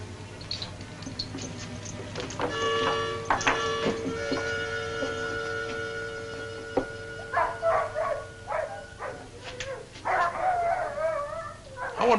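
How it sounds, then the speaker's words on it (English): A pack of sled dogs howls in long overlapping wails, then breaks into sharp yips and barks, moderately distant over a low steady hum, with no talking. "I wonder what's bothering those dogs."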